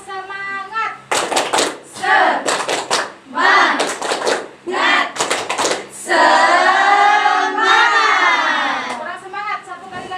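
A school class of seventh-grade pupils performs the Indonesian 'tepuk semangat' spirit clapping chant, with bursts of rhythmic group clapping mixed with children's chanted voices, loud and close, ending in a sustained shout.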